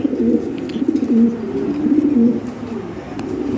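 Lahori Shirazi pigeons coo close by in rolling, repeated low phrases that carry on steadily throughout.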